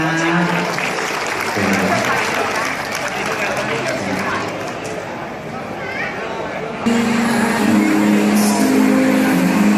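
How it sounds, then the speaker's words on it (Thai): Guests applaud at a Thai wedding reception, the dense clapping mixed with crowd babble and a host's amplified voice, growing louder near the end. "ปรบมือหน่อยนะคะ"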